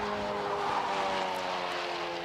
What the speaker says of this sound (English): you can really hear pushing the tyres to the limits there with that car